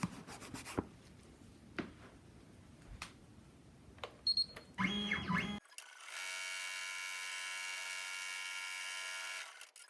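A home embroidery machine stitches down a taped pocket in the hoop, a steady buzzing mechanical hum that starts abruptly after several seconds of faint handling, rustling and tape sounds.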